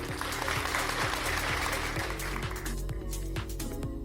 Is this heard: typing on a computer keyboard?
no